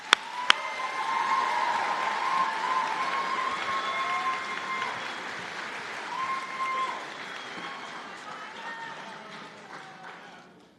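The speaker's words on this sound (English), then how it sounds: "Let's have one more round of applause for our students." An audience applauds nursing students at a white coat ceremony, with steady sustained clapping that holds for about ten seconds, then gradually thins and softens toward the end.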